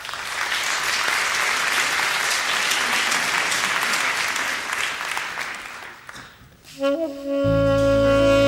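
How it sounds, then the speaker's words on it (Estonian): A concert audience applauds at the Jazzkaar jazz festival, a dense, sustained clapping that tapers off before music comes in over the last seconds. "Nad plaksutavad ja kontsert jätkub."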